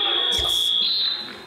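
A loud, steady electronic buzzer marks the end of a period in a college wrestling match, a sustained high tone holding for over a second above a murmur of gym noise.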